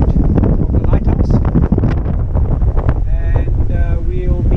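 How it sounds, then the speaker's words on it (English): Strong wind of about 35 knots blasts across the microphone aboard a sailboat off the west coast of Southern Africa, a loud rumbling roar with water rushing beneath, and a faint whistling tone near the end. "We've got hectic wind behind us"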